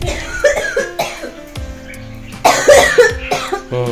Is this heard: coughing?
yes